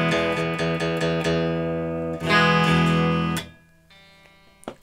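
Strings on a budget Fazley Firebird electric guitar are struck in a quick series of bright, ringing plucks and strums, then a louder sustained chord that fades, ending with a faint picked note and a sharp tap.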